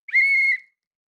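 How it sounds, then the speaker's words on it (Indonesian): One short, bright whistle blast rings out at a children's church gathering, held steady for about half a second before stopping, with silence after. "Kalau kakak tiup peluit ini berarti adik-adik semua sudah siap"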